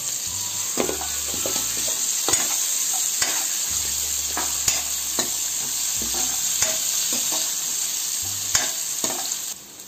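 Curry leaves crackle in hot oil for a Cuddalore-style karapodi fish curry, a constant close sizzle punctuated by frequent sharp scrapes and taps of a ladle stirring the pan, with no one speaking.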